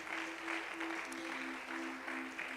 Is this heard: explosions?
no